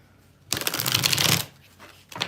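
A deck of tarot cards is riffled in one quick, crisp burst of fluttering, close and clear, followed by a short quiet pause and a faint brush of cards.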